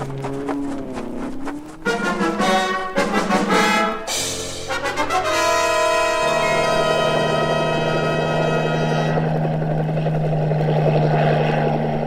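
A helicopter sound effect in a French Tintin audiobook drama of L'Affaire Tournesol, with rotor and engine noise swelling loud and steady after a few seconds, following music at the start.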